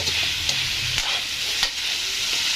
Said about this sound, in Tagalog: gandaan lang yung halo natin at baka madama yung atay, madudurog